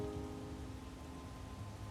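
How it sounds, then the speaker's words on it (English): Heavy rain downpour in a video game, a dense steady hiss of falling water with a low constant drone, brief and moderately loud, no voices. "I'm caught in a downpour."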